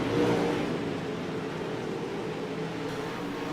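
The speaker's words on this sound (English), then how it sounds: "They are drag racing down into turn number 3 and out of turn number 4." Pro Late Model race cars roar as a pack around a dirt oval at Lernerville on championship night, a dense, distant engine drone that holds steady throughout.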